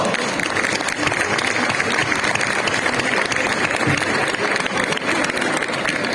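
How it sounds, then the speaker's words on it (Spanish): Sustained audience applause fills the room at the Gamoneu cheese auction in Asturias, a dense steady wash of clapping that stays loud throughout. "¡Un aplauso!"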